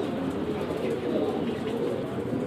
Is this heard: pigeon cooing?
yes